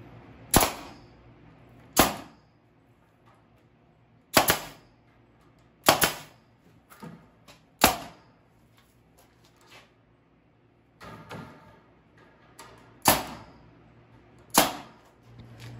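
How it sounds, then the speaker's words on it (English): A staple gun fires staples through wire mesh into a wooden compost sifter frame, giving sharp, close snaps spaced irregularly about one to two seconds apart, with softer handling clicks between them. "All right, I'm gonna put a few staples on it."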